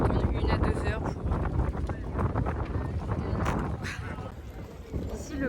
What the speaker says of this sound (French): Et il y a grave du vent.